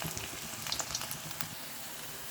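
Ivy gourd pakoda pieces deep-frying in hot oil, a steady close sizzle and bubbling hiss with a few brief crackles throughout, no talking.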